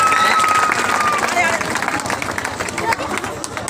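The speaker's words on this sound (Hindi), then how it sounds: "दर्शकों से निवेदन ताली बजाकर अभिनंदन करें।" Audience clapping at a cricket tournament prize ceremony, a steady burst of applause and crowd hubbub under a voice over a loudspeaker.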